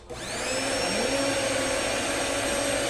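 Electric mixer whirring through red velvet cake batter, a steady high motor whine that spins up at the start and then holds constant, close and alone.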